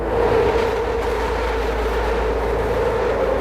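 A train rumbles along an elevated line in northern Philadelphia, a loud, sustained roar heard from close below, steady with a deep low rumble and no voices.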